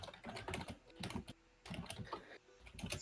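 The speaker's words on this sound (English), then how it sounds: "Frantic typing." Rapid, frantic clatter of keys on a computer keyboard, dense bursts of close clicks broken by two short pauses, with no voices.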